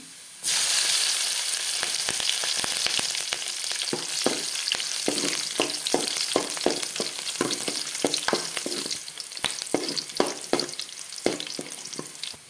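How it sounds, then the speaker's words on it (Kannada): Chopped green chillies fry in a hot pan, a steady loud sizzle with repeated stirring clicks and scrapes throughout, no voices. "ಕಟ್ ಮಾಡಿ ಇಟ್ಟುಕೊಂಡಿರುವ ಹಸಿಮೆಣಸನ್ನು ಹಾಕಿಕೊಳ್ತಾ ಇದ್ದೇನೆ"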